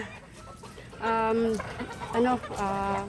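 Chickens in a flooded backyard coop cluck in short, close bursts, with several rising calls over a low background murmur.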